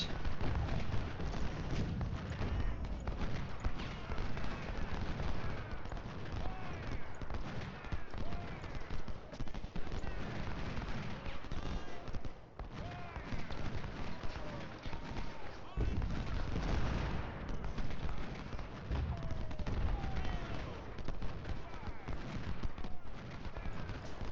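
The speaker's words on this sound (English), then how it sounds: "Okay, they are firing." Cannon and musket volleys from a Civil War battle in Ultimate General: Civil War ring out as a dense, continuous rumble of distant booms and crackling gunfire, steady throughout with no pauses.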